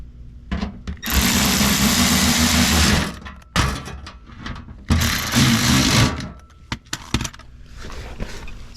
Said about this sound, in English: tighten these two 10 millimeter bolts back down.